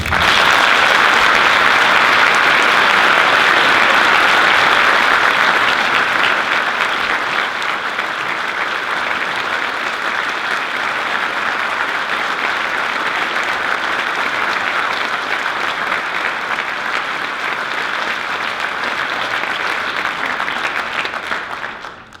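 An auditorium audience at a high school band senior awards concert claps loudly and steadily for over twenty seconds, a dense, sustained wash of applause that eases slightly before fading out at the end.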